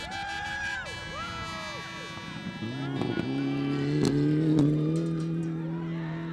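A rally car tears along a gravel stage at the Oregon Trail Rally, its engine rising in pitch as it approaches and passes, with gravel spraying and rattling, while commentators talk over the noise.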